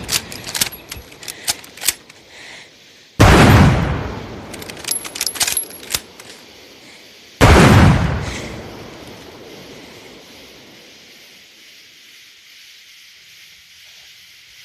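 Two loud gunshots fired into the air in a horror thriller scene crack out several seconds apart, each followed by a long fading echo, with small clinks and rustling before them.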